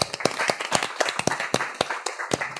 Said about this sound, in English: you deserve a hand of applause